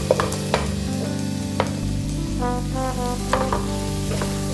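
Liver fry cooking down with dry masala in a pan, giving a steady, close sizzle that runs throughout, broken by scraping stirs and a few sharp utensil knocks against the pan.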